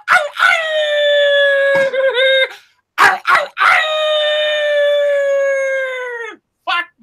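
A voice imitates dogs howling and barking, two long sustained tonal howls with short yelps between them, loud and close, mocking a square Jaeger-LeCoultre Squadra Reverso watch.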